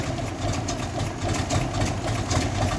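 A GAZ-53 truck engine with a new carburetor idles on choke in a rough, steady low rumble, close and continuous with a faint knocking texture, no talk.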